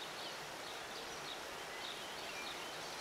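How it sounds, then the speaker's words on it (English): Forest ambience from a sound pack: soft continuous wind and rustling foliage with faint, sparse bird calls and a gentle stream-like wash, quiet and even throughout. "if you want to have the birds going, and if you want to add in some river ambiance, you can have those going together."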